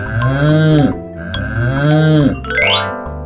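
A cow moos twice, long, deep and loud, each call swelling then fading, with gentle music underneath and a rising chime at the close.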